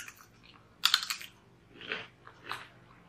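Onion-flavored Korean rice crackers crunched up close, with one loud burst of bites followed by two softer crunches spaced apart, alone without talk.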